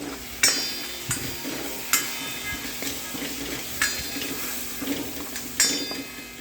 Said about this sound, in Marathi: हे बघा सुके मसाले मस्त फ्राय होत आहेत